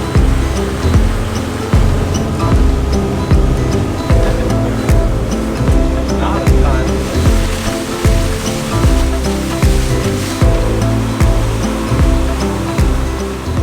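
Wind-driven choppy water slaps steadily against a boat out on Mahone Bay, Nova Scotia, a loud, continuous wash of waves with a rhythmic low thumping of hull against the swell and no voices.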